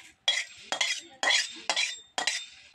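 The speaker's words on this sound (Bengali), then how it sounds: "উনানে আবার কড়াটা বসিয়ে দিচ্ছি।" A kadai (wok) is set back down on a village kitchen stove after frying neem leaves, giving about five close, sharp metallic clatters and scrapes in quick, uneven succession.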